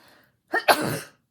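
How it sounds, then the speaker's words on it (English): A single sharp sneeze, a quick intake followed by an explosive burst, close and loud against near silence. "I'm going to sneeze."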